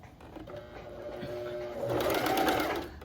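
A domestic sewing machine stitching stretched knit fabric, a steady mechanical whir that grows louder and busier toward the end, with a faint voice in the background.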